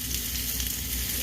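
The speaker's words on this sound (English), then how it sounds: "But I do add my onions real quick. You hear that sizzle?" Onions sizzling in a hot frying pan, a close, continuous crackling hiss with no talk over it.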